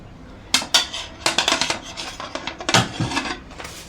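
Cooked sago pearls scraped from a utensil into a metal cooking pot for a sweet milk dish, giving a run of close, bright clinks and scrapes of spoon on metal with soft wet thuds, no voices.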